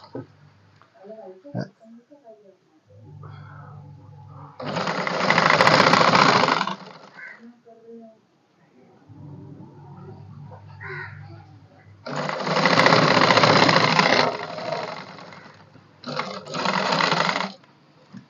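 A sewing machine stitches a shirt shoulder seam in three loud bursts of running needle noise. Someone talks in the quieter gaps between them.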